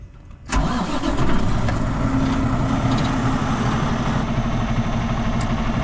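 A Kenworth diesel truck engine cranks and catches after a brief quiet moment, then settles into a steady, loud, close idle rumble with no talk over it.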